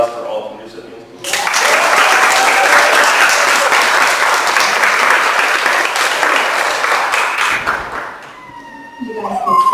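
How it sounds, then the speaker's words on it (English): An audience at a graduation scholarship award program applauds the recipients with loud, dense clapping for about six seconds, which then fades as a voice resumes talking. "Round of applause for all of the recipients."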